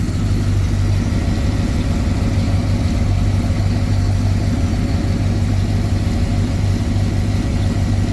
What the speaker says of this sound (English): Idling about 750, good enough.